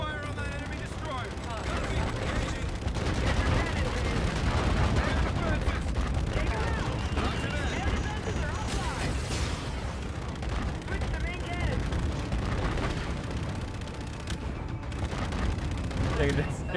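Rapid gunfire and heavy explosions from a sci-fi naval battle in the game Call of Duty: Infinite Warfare, aimed at an enemy destroyer; dense, continuous and loud bursts under frequent player chatter.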